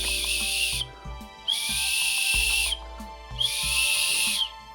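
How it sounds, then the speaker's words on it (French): Three long, shrill blasts from a survival whistle sound close and loud, separated by short pauses, with faint background noise between them. "Un sifflet."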